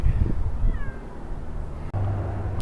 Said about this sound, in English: Here we are with a cat on my back.